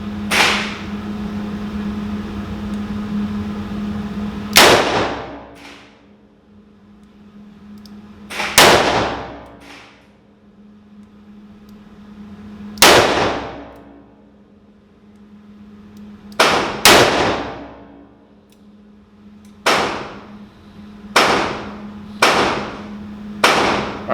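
A Rossi 671 .357 Magnum revolver fires about nine sharp, loud shots at uneven intervals, some in quick pairs, each crack followed by a decaying echo, with a low hum between the first shots.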